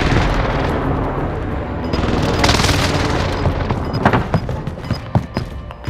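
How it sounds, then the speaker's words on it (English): Precision airstrike explosions rumble and boom in Call of Duty: Modern Warfare, a loud rolling blast followed by scattered sharp cracks of gunfire toward the end. "Precision airstrike missed."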